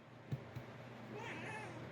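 A cat meows faintly in a quiet indoor room, a short drawn-out call near the end after a couple of soft taps.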